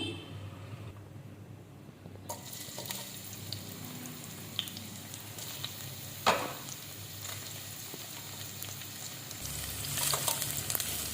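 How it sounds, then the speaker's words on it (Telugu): Onions and green chillies fry in hot oil in a kadai with a steady, close sizzle, a few sharper spits and stirring scrapes, briefly swelling louder near the end. "ఆనియన్స్, పచ్చిమిర్చి వేసుకున్నాం."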